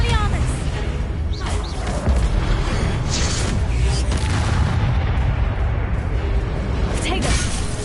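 Spell blasts in a Hogwarts video game, a fiery blasting curse among other spells, give repeated booming explosive bursts over a dense, loud battle din with no pause.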